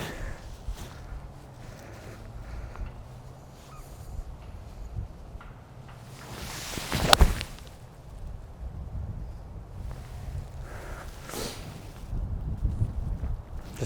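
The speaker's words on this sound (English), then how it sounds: "I bet it's like a 30-mile-an-hour wind out here." Strong, gusting wind on a golf course buffets the microphone with a low, rumbling roar, rising in irregular bursts and peaking in one sharp gust midway.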